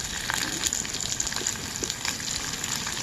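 Green chillies and curry leaves crackle and sizzle in hot oil as Rayalaseema garlic chutney is cooked, a steady close hiss with scattered pops running the whole time.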